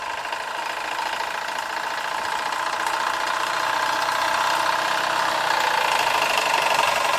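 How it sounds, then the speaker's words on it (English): A Stirlingkit Retrol SE-03 model steam engine, driven by a homemade gas burner, runs continuously with a fast, even mechanical chugging and whirr that holds steady and close throughout. "so let's see if it'll run the engine."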